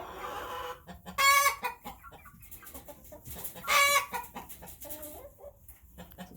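An Easter Egger hen clucks close by with soft, repeated low clucks, broken twice by louder, drawn-out squawking calls, against quiet farmyard background.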